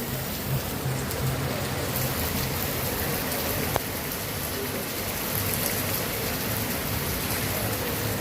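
Steady rain pours down continuously, a dense even hiss close by, with no break throughout.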